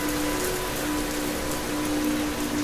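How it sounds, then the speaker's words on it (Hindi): Steady rain falls in a dense, even hiss that holds at a constant level, with a faint tonal hum running underneath. "बारिश शुरू हो गई।"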